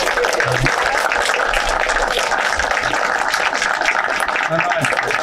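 Audience at a conference on the history of Costa Rican currency applauding, a steady broadband wash of clapping at moderate loudness, with a voice talking faintly over it.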